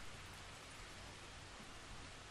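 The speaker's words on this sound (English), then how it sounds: "Don't like it when it rains." Steady rain falling in the dinosaur park-building game Jurassic World Evolution, a constant even hiss of downpour that stays uniform and moderately loud throughout, with no voices.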